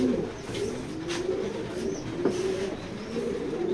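Racing pigeons in a loft coo repeatedly in soft, low rolling calls, fairly close, with faint fluttering and movement around them and no talk.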